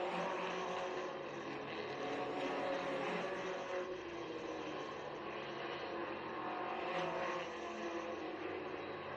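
Allison Legacy Series race cars at Florence Motor Speedway roar past in a dense pack, a continuous high engine whine that swells and fades slightly as they work through the turns, with no talk.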